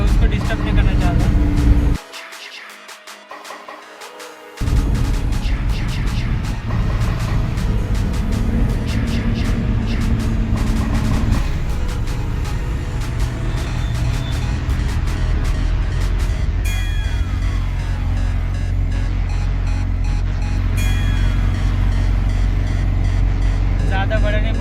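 A car drives along the Sinnar ghat road in Maharashtra, a constant engine and road rumble with wind noise heard from inside the vehicle, briefly dropping away early on before returning steadily.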